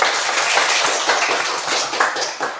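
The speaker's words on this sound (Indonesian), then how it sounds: "tepuk tangannya yang kuat" A group of students in a classroom claps hands vigorously. The dense, continuous patter is close and loud, with no talking over it.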